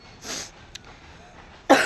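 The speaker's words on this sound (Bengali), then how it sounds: "আজকে খুব কাশিও হচ্ছে" A woman with a persistent cough gives two bursts, a moderate one early and a sharper, louder one at the end, in a quiet room.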